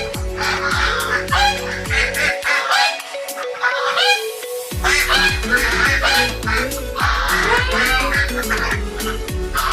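Geese honk loudly and repeatedly at close range from a backyard duck and goose pen in Felda Palong Timur, Segamat, Johor, Malaysia, with overlapping calls and a brief lull midway.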